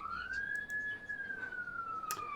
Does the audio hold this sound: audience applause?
no